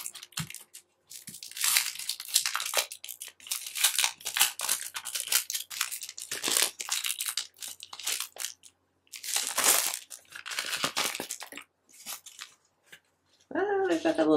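Crinkling and tearing of packaging in repeated bursts, close by, with short pauses between and a voice speaking briefly near the end.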